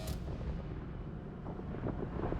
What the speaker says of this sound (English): Get some shots on that Ashton Gauntlet